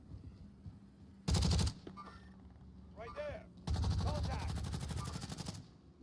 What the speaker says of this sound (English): There's someone else shooting at him, too.